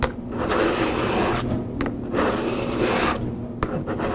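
A broadhead arrow tip scraping along a DMT DiaStrike diamond sharpener in a few long, rasping strokes with brief pauses between them, close and clear with no talking.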